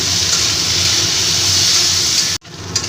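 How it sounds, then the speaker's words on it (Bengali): Cauliflower fries in hot oil with turmeric and salt, a steady loud sizzling hiss that holds evenly, cuts out sharply near the end, then resumes more softly. "একটু হলুদের গুঁড়ো দিয়ে দিলাম আর সামান্য নুন দিয়ে ফুলকপিগুলোকে ভালো করে ভেজে নিচ্ছি"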